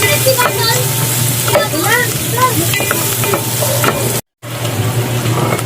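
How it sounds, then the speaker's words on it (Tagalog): Garlic sautéing in oil in a pan for a shrimp-in-coconut-milk dish, a steady loud sizzle with scraping stirs and utensil knocks, close up, briefly cut off near the end before resuming. "sunod ko po yung ating bawang. Isahin lang natin hanggang sa mag golden brown yung ating mga sangkat"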